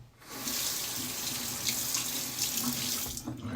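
Cold water runs steadily from a tap into a sink, rinsing a Dovo straight razor during a shave; a continuous close hiss and splash fills the clip with no talk.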